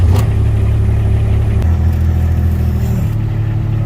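Four-wheeler ATV engine running close and loud while driving around Montana ranch property, a steady low rumble with a slight shift in pitch partway through.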